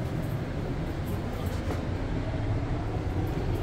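Inside a moving bi-level Exo commuter train at night, a steady low rumble and rushing hum of the rolling car fills the space, continuous and even with faint rattles.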